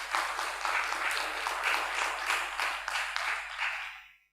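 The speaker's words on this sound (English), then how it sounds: "Don't you think they deserve another round of applause?" A round of applause after a stage performance at the Malay CultureFest 2020 launch in Singapore, steady and dense from a sizeable crowd, moderately loud, then cut off abruptly near the end.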